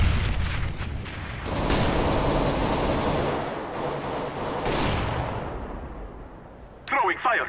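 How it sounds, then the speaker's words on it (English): Booming grenade blast and rolling gunfire in a competitive CS:GO match, loud bursts layered over continuous battle noise, with a voice talking near the end. "I'm throwing a grenade!"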